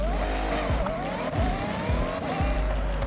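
Engine of a 1969 Dodge Charger in the Forza Horizon racing game revs hard while doing wheelies, a loud, sustained roar with rising tonal sweeps and periodic low thumps, no talk.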